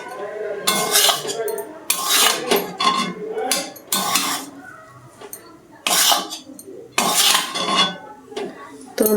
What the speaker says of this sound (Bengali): তো আমি এভাবে ভাজতে থাকি